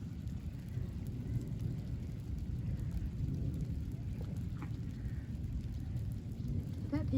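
Summer thunderstorm with steady rain hiss and a low continuous rumble, heard faintly outdoors with occasional distant voices beneath.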